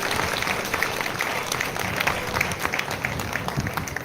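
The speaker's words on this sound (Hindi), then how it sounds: "जोरदार तालियां इस बहन के लिए" An audience at a two-day youth and school workshop claps steadily and vigorously in a sustained, even round of applause that stays at a constant level throughout.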